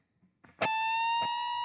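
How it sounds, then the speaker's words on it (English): A distorted electric guitar note from a solo is picked and bent up, then held ringing steadily without release for about a second, loud and alone. "So this time with the bends, we're just going to bend them up, and we're not going to hear it come back down."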